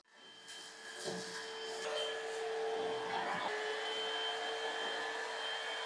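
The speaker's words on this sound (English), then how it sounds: "so let me start with the low mode." An Agaro cordless stick vacuum cleaner starts up on its low setting and settles into a steady whirring hum with a thin motor whine, running alone for several seconds after a few light clicks.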